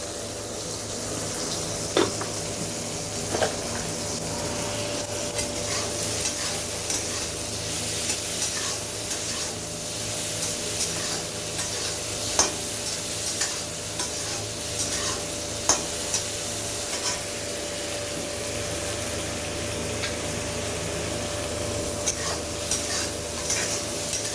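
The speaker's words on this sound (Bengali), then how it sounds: "সামান্য কাজু বাদাম দিয়ে দিয়েছি আমাদের, টমেটোর সাথে ভেজে নেব" Cashews and salted tomatoes fry together in a pan, giving a continuous close sizzle with soft stirring scrapes and occasional sharper ticks, plus a low steady hum beneath.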